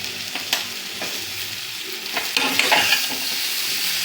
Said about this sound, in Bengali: পাশে তোমার নিম পাতা ভাজা হচ্ছে, ঘি দিয়ে ভাজছি।